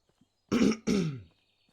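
Someone clears their throat twice in quick rasping bursts, close by and fairly quiet, with nothing else around.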